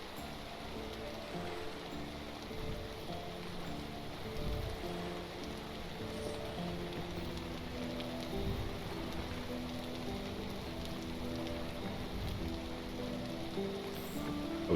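Rain falls in the survival game Vintage Story, a continuous patter and hiss of drops on surfaces that runs steadily throughout, with faint game noises now and then.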